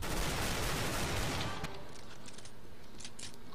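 Rapid gunfire in a video game, Desert Eagle pistol shots, starts as a loud, dense burst and then breaks off into scattered fainter shots and clicks.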